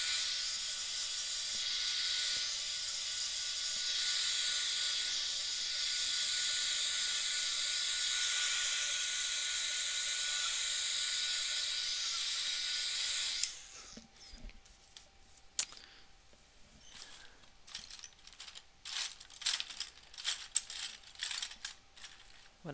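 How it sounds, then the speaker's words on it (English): A hair dryer blows on a piece of intuitive artwork, a steady airy roar lasting about thirteen seconds before it cuts off, followed by quiet clicks, taps and rustling of art supplies. "I'm going to hit this with the dryer"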